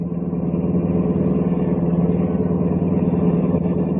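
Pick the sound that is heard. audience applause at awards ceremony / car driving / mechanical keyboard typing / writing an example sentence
car driving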